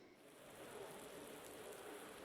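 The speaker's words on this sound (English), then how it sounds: "So we've got a bit of rain." Steady rain hiss in the racing video game Automobilista 2, a broad, even wash of falling drops at a low, constant level with no voices.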